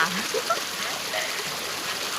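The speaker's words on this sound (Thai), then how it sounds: "เราได้มาถึง ต้นกำเนิดแหล่งน้ำสุดยอดค่ะ" Water runs continuously at a stream headwater spring deep in the forest, a steady close wash of flowing water lasting a couple of seconds with no clear talking.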